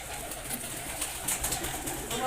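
Domestic pigeons cooing softly in a loft or rooftop coop, low murmuring calls repeating irregularly over steady background noise, fairly faint and without talk.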